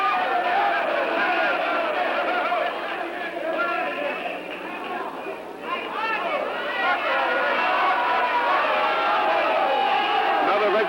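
Big stadium crowd at a 1960s professional wrestling match, a steady loud roar of many voices that dips briefly midway and then swells again, with a commentator talking over it.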